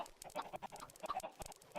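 A busy cluster of Minecraft chickens clucks rapidly and continuously, close and fairly quiet, with no talking.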